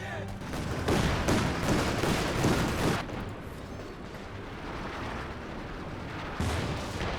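Artillery barrage in the World War II strategy game Company of Heroes 2, a dense, continuous rumble of shell impacts and gunfire that swells louder in the first three seconds and then settles into a steady roar.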